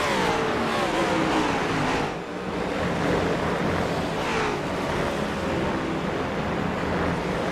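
Simulated race cars lap Watkins Glen International in a sim racing game, a continuous roar of engines with rising and falling pitch as cars pass, fairly loud and steady with no voices.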